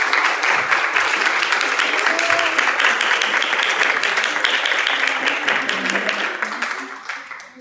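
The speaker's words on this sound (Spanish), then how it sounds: "Por favor, démosle un fuerte aplauso." Loud, enthusiastic applause from a conference audience at La Salle welcoming a guest speaker, a thick continuous patter of many hands that tapers off in the final second.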